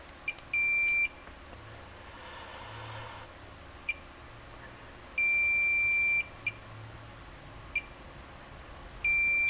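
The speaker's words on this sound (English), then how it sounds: "So these all should be 2 beeps and a ground. So beep, beep, ground, beep, beep, ground, beep." A multimeter on continuity mode gives three long, steady beeps about four seconds apart, with short clicks between them, as its probes test the lines of an iPhone connector during phone data recovery. The room is otherwise quiet and no one speaks.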